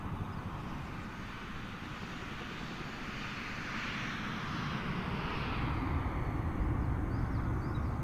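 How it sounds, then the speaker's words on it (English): An Airbus A340 airliner flying by in Microsoft Flight Simulator, a continuous broad jet roar that swells slowly and stays loud throughout, with no voices. "An A340. Nice."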